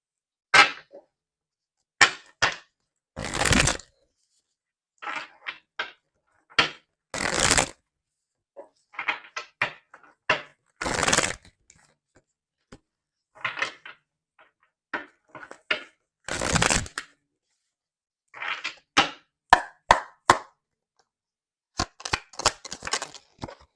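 Tarot cards are shuffled and handled close up in a quiet room, with repeated short riffling bursts and soft snaps in an irregular rhythm, alone and fairly faint.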